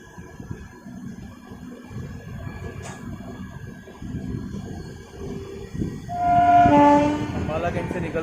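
The Bandra–Amritsar Paschim Express, a Covid special, starting to roll toward the platform at Ambala Cantt, a steady low rumble of the train under light background chatter, then a long loud horn blast near the end.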